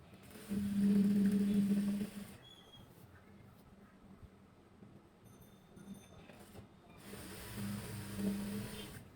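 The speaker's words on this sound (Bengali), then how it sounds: "দুইটা পার্ট একখানে ধরে এক সাইড সেলাই দেব" A sewing machine stitches the side seam of a petticoat, joining two fabric panels, in two steady mechanical whirring runs separated by a quieter pause.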